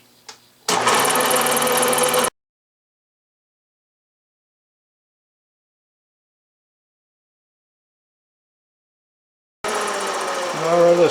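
Cast iron casting for a drill press vise being machined in a shop, a steady metal-cutting machine whine in two bursts: one short early run and another starting near the end, separated by a long silent stretch.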